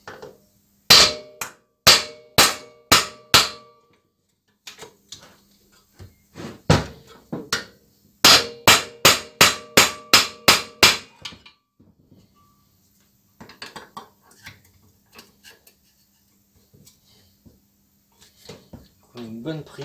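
A hammer taps a part of a Briggs & Stratton E-series engine in two quick bursts of sharp metallic strikes, each about eight blows, with scattered lighter knocks and handling noises between them.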